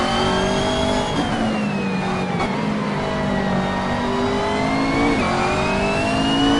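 Race car engine lapping the Nürburgring in the Assetto Corsa racing game, a steady loud whine that rises and falls with gear shifts and revving throughout.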